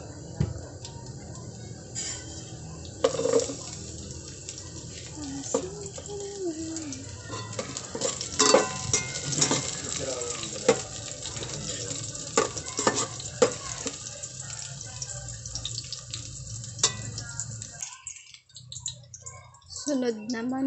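Garlic sautéing in a pan for mussel tinola, with a steady sizzle under frequent spatula scrapes and clicks, a voice talking over it, and a brief quieter pause near the end.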